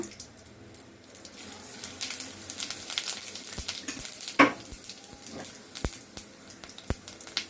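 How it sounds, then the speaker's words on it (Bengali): Dry red chilies and whole cumin tempered in hot oil for a rui fish curry with beans and potato: a light, crackling sizzle with sharp pops and spatters, plus an occasional clink of a utensil against the pan. "প্রথমে ফোড়নে দিব শুকনা মরিচ তারপরে দিব গোটা জিরা"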